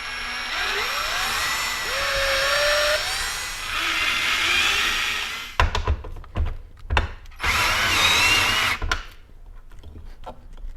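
Power driver running screws through wall anchors to mount a Giraffe Tools pressure washer plate: two long whirring drive bursts with rising pitch, then short clicks, a few quick pulses and a final sustained run, close up.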